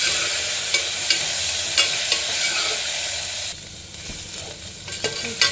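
Brinjal sizzles steadily in a pan of hot oil while a spoon stirs and scrapes, giving several sharp clinks against the pan; the frying dips slightly near the end, with no talking.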